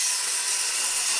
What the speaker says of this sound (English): The whack of a hammer, the buzz of the saw.